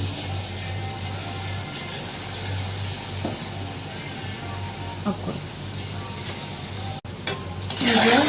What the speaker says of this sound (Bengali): এই যে এক এক করে আমি দিয়ে দেবো এবার তালের বড়াগুলো।